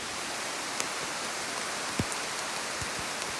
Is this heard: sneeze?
no